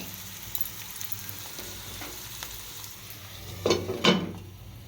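Onions frying in oil in a pan for Telangana-style chicken curry, a steady close sizzle throughout, with a couple of louder scraping stirs near the end.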